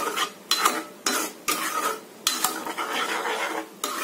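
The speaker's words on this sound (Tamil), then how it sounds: "ஆட் பண்ணி நல்லா கலக்கிக்கோங்க." A spoon scrapes around a pan of spicy crab masala as salt is stirred in, making rhythmic rasping strokes separated by short pauses, close and fairly loud.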